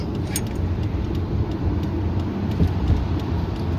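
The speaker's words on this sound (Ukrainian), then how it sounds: "Зменшуємо швидкість до контрольованої і легенько заходимо в поворот." A car slowing to a controlled speed and easing into a right turn, heard from inside as a steady, close engine and road rumble with no talking.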